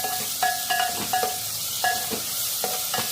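Tomatoes sautéing in a pan for an egg and brinjal curry, a soft continuous sizzle broken by short clinking stirs of a utensil against the pan.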